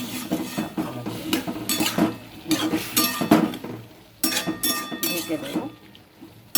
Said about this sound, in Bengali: মশলাটা সাঁতলাতে হবে ভালো করে, অল্প জল দিলাম সাঁতলানোর জন্য